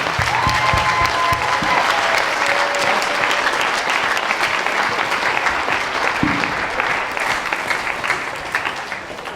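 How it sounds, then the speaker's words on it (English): A large audience applauds at a Welsh cycling awards ceremony honoring lifetime contribution, a loud, dense, sustained wash of clapping that holds steady throughout with faint cheers and whoops mixed in. "a round of applause for these strapping fine gentlemen, but more importantly, for John Richards"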